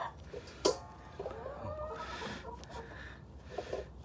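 Chickens cluck and mutter around someone collecting eggs, with a sharp squawk early on and several soft, scattered clucks close by in the coop.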